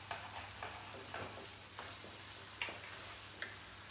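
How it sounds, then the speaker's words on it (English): Stock stirred into a cooking pot, heard as soft repeated scraping strokes with faint sizzling underneath, quiet and close, in a roughly regular rhythm without talk. "Stir this."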